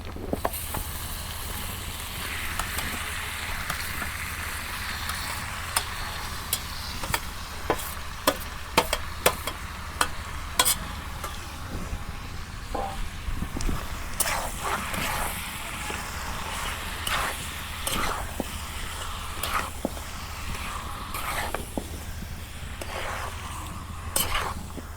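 Chicken pieces sizzle softly in a pan of hot spices for a homemade chicken bhuna with potatoes, with occasional clinks and scrapes of a spoon stirring the meat over a steady low hum.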